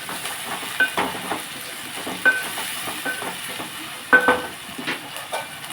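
Tomatoes added to a pan for a curry, a soft sizzle with intermittent stirring clinks and scrapes against the pan, several sharper knocks standing out.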